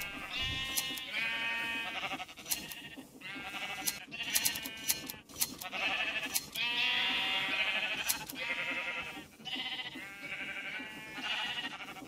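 Sheep in a Minecraft Create mod shearing setup bleat repeatedly in an overlapping, steady chorus of game sound effects, faint in overall level.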